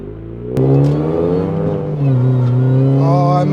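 A modified 2000s Mini Cooper S R53 engine revs up hard with a throaty, rising growl, holding a loud, steady drone before climbing again, close by.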